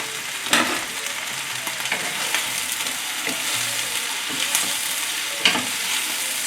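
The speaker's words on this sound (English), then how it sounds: "Now we're gonna add in the spinach." Spinach stirred into a frying pan with Taiwanese sausage and tomatoes for an omelette, a steady close sizzle punctuated by occasional scraping clicks of the utensil.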